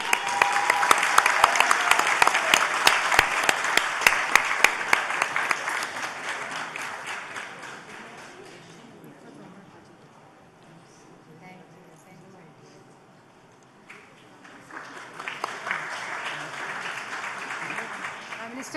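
An awards-ceremony audience claps for Nadeem Baig with loud, crowded applause that gradually dies down, goes quiet for a few seconds, then swells again with renewed clapping.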